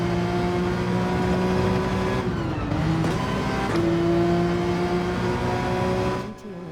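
A Porsche 911 engine at full throttle in Gran Turismo holds a loud, steady high-pitched drone, dipping briefly in pitch as it shifts gear mid-way, then climbing again before cutting off near the end.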